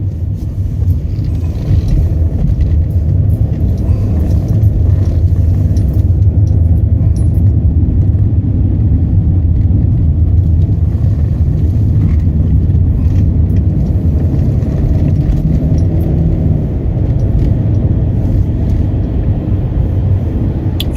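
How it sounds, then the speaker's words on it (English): Car driving on a town road at night, a loud, steady low engine and tyre rumble heard from inside the vehicle, continuous and unbroken with no talking. "Driving through Bootle."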